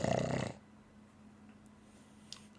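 A human voice imitates a death rattle with a short, gurgling, snore-like exhale of about half a second. It is followed by near silence with faint room noise.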